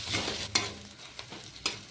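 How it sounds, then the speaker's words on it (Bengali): Onion and ginger fry with a soft sizzle as a spoon stirs, giving a few quick scraping taps against the pan. "আদা দিয়েও একটু ভেজে নেব"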